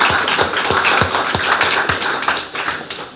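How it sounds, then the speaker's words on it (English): Audience clapping in a talk on laughter and business: a steady run of sharp claps at a regular rhythm, fairly close and dense, carrying on for a few seconds before thinning out. "So give yourself a laugh and a clap."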